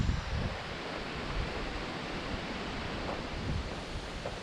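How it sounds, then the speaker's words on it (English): Strong wind roars steadily against the microphone, a dense continuous rush with low buffeting gusts and no voices. "it's crazy windy today"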